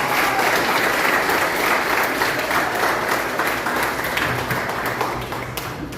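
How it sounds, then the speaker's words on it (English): Sustained, loud applause from an audience at a heritage week event, a thick wash of many hands clapping steadily before tapering slightly at the close. "that presentation we just got deserves another round of applause"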